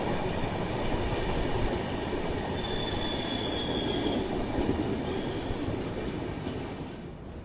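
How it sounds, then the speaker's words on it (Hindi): The North East Express train rolls across the Saraighat rail-cum-road bridge over the Brahmaputra, a loud continuous rumble of wheels and carriages with faint squealing, fading slightly toward the end, no voices. "नॉर्थ ईस्ट एक्सप्रेस एंट्री ले रही है अभी सराय घाट के पुल पे।"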